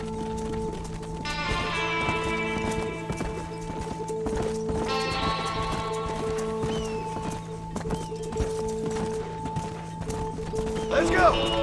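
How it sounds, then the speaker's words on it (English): Horse hoofbeats clip-clop steadily while herding cattle in the Red Dead Redemption video game, with repeated horse whinnies, a low steady background drone and a voice talking over the ride. "Control that horse, will ya?"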